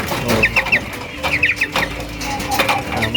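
Cornish chickens on a farm cluck in short, repeated bursts of clucks close by, over a continuous background of barnyard noise.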